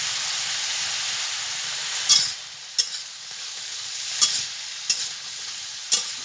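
Raw jackfruit pieces seasoned with salt and turmeric fry in a pan with a constant close sizzle, broken by five sharp scraping stirs of a spatula at irregular intervals.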